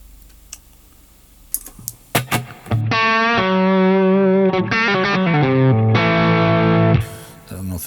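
Faint clicks and taps lead into an electric guitar played through a Line 6 Helix LT on a Route 66 amp model with reverb. It sounds out as loud, sustained distorted notes and chords that change several times.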